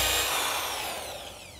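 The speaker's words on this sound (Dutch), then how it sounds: "Ik boor nog even." A power drill bores into wood, giving a loud, continuous whining, grinding burst that slowly fades over under two seconds, with no talk over it.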